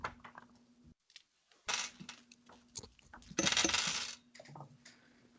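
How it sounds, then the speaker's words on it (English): Dice clatter and tumble across a glass table in several short bursts of hard rattling clicks, fairly close, with a steady low hum underneath and no talking. "clattering of dices. Dices is being plopped on my glass table."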